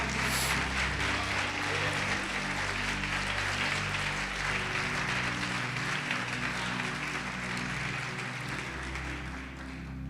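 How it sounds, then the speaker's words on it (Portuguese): Church congregation clapping during a Portuguese-language sermon, a steady, moderately distant wash of applause over a low hum that holds for the whole stretch, slightly softening toward the end. "Você pode aplaudir o Senhor Jesus e glorificá-lo."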